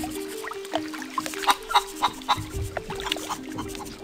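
A chicken clucks in The Curse of Monkey Island PC game: a series of short, soft clucks in an uneven rhythm over a steady low musical hum.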